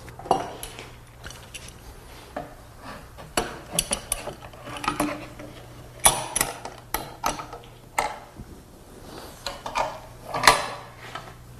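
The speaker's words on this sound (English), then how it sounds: "Then I clamp the template firmly in place" A router template being clamped onto a wooden board, heard as a string of close, sharp clicks, ratcheting ticks and wooden knocks spread irregularly through a quiet room.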